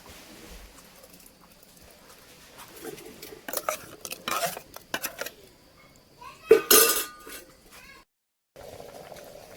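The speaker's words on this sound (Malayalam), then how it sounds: "നമ്മളിതാ അരപ്പ് ഒഴിച്ചു കൊടുക്കുന്നുണ്ട്." Ground coconut paste being poured into a curry pot and stirred, with scattered clinks and scrapes of a utensil against the pot. Quiet stretches fall between the bursts, and a sharp louder clatter comes near the end.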